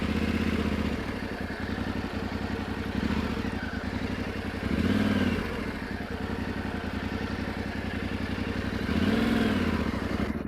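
Yamaha Tenere 700 adventure motorcycle ridden slowly through a low-speed drill, its engine thrumming steadily up close with gentle throttle swells every few seconds.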